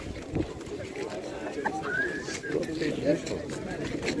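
Budapest tumbler pigeons coo at a busy outdoor market bazaar in Tczew, with repeated soft close coos mixed under continuous nearby chatter from people talking.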